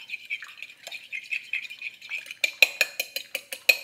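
Egg white being mixed in a bowl for almond crescents: soft, continuous swishing at first, then a run of sharp, regular clinks as a utensil strikes the bowl, close and clear with no talk.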